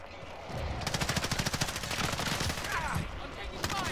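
Rapid automatic gunfire in Call of Duty: Modern Warfare, a loud sustained burst of evenly spaced shots cracking close by, followed by more scattered fire and echoing reports.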